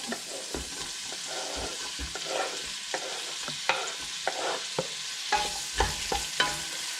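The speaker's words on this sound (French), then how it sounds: "Une fois que l'huile est chaude, vous mettez vos oignons." Onions go into hot oil for homemade lasagne and fry with a continuous crackling sizzle, punctuated by repeated stirring knocks and scrapes, close up with no voices.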